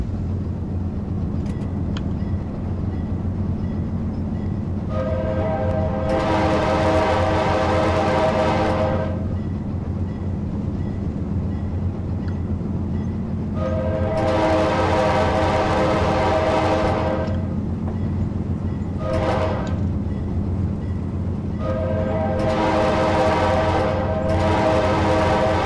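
An Amtrak Dash 8-32BWH locomotive in Train Simulator 2017 rumbles steadily, broken by several loud horn blasts: two long sustained soundings, a short one, then another long blast near the end.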